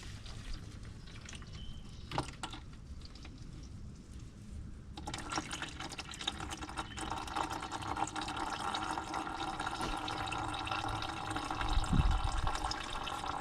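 Engine oil draining out of a 2023 Can-Am Defender side-by-side, a steady splashing liquid stream that starts softly and grows fuller and louder after a few seconds, continuing without pause.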